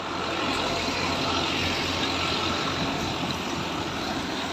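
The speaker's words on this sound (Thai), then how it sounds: "อันนี้เร่งเครื่องธรรมดานะครับ" An Isuzu turbocharged four-cylinder engine drives an 8-inch water pump draining an earthen pond. It makes a loud, steady, unbroken drone with a hissing roar, close by and without talk.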